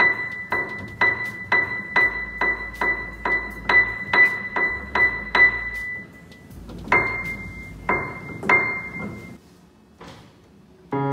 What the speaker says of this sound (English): this key actually hits a string through a hammer. See, these hammers are hitting the string.